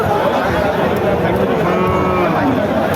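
Cattle mooing close by at a cattle market, a drawn-out low bellow over a noisy crowded background of murmuring voices.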